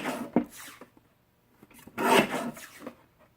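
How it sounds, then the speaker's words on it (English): Quick blade cuts from a paper trimmer slicing cardstock strips: a couple of short scraping rasps, near and fairly quiet, with pauses between them. "You can see how great my trimmer works"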